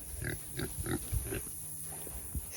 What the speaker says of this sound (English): Okay, taking a bucket over here to the piggies. They're gonna be excited. Here they come.